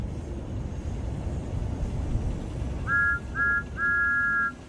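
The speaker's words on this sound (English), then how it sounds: "That's Thomas's whistle. All steam engines have whistles." A steam engine whistle, from the Thomas the Tank Engine story, sounds three times over a low rumbling background: two short toots and then a longer blast, moderately loud.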